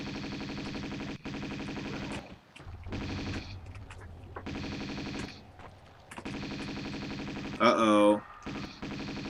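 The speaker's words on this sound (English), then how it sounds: "I'm going to use the Uzis." Uzis firing in Tomb Raider 2, heard as loud bursts of rapid, evenly spaced automatic shots separated by brief pauses, with a short voice exclamation partway through.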